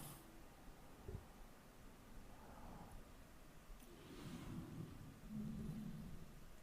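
Game rain and rumbling thunder in F1 Manager at Silverstone, faint and distant, with low rolls swelling and fading over a soft steady hiss.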